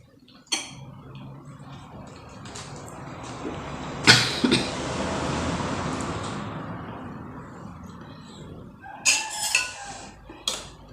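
A rooster on a rural Thai homestead lets out crowing calls, loud and close, one long call in the middle and another burst near the end, with faint clinking of dishes and light background noise between them.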